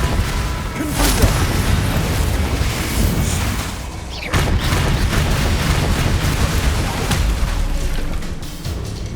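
Spell-casting explosions from the Confringo blasting charm crackle and boom in Hogwarts Legacy combat, a dense, loud, continuous barrage of blasts and crashes with a sharp break near the middle, game effects layered thickly throughout.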